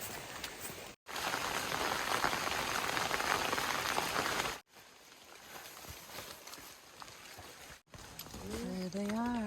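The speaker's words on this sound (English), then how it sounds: "Today we're just dealing with the rain" Steady hiss of rain pattering on surfaces along the Foothills Trail, loud and continuous in several stretches, with a voice speaking near the end.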